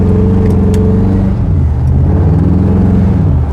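A hot rod's engine drones steadily from inside the moving car, its low rumble rising in pitch as it accelerates, loud and close with no talking.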